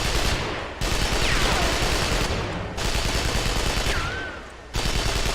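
Sustained automatic gunfire from the video game Hellgate London, loud and close, roaring in long bursts broken by two short pauses, with no talk over it.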